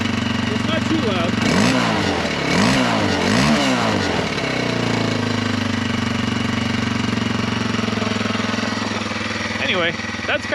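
A nearby KTM Freeride E-XC electric dirt bike motor revs up and down in several rising and falling surges, then holds a steady, loud whine for the remainder.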